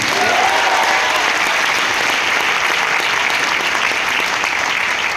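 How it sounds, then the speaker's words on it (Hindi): Loud, sustained applause from an audience after a motivational speech by a Tiens India deputy country head in Faridabad, dense and steady throughout without pause. "तो क्या एक जोरदार तालियां हो सकती हैं?"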